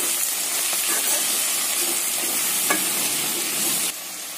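Radish sambar with turmeric and salt being stirred in a pan, a steady close sizzle with soft scraping strokes of the spoon, no talking.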